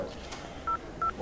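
Mobile phone keypad beeps sound while an SMS is typed: two short, clear tones about a third of a second apart over a soft background hiss.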